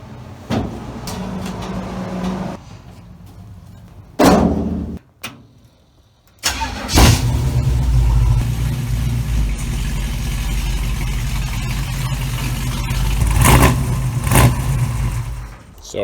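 A 1936 Chevy coupe hot rod's 350 small-block V8 cranks in loud bursts, pauses, then catches and fires into a rough, rumbling idle that holds steady with occasional revs, close by and with no talking.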